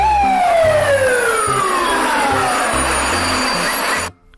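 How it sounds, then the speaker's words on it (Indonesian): A toy fire truck's electronic siren wails loud and close, its falling sweeping tone repeating steadily for about four seconds before cutting off abruptly. "lihat ada mobil pemadam kebakaran"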